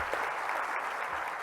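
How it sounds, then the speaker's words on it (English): A conference audience applauds the organizing group with steady, dense clapping, moderately close, lasting just over a second. "applause to the organizing group"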